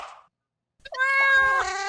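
A cat meows in the You Don't Know Jack video game, a short burst of noise, then a pause and one loud, drawn-out meow with a falling tail.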